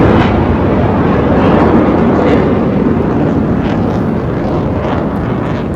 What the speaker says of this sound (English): I let you hear this jet noise.